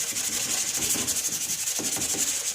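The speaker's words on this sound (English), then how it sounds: "a mouse sander, and I don't know if it's necessarily intended for a wet application or wet sanding" A mouse sander wet-sanding a cloudy car headlight gives a steady high buzzing rub with rhythmic pulsing, close and continuous with no voices.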